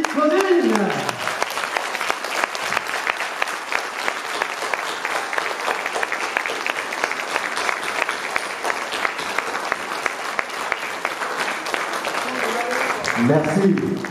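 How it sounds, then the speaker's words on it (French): An audience at an artistic vigil stands and applauds in a long, steady, dense round of clapping that fills the space and holds nearly unchanged for about fourteen seconds, with a voice briefly heard at the start and end. "On se lève s'il vous plaît et on applaudit pour Wadji Claudine."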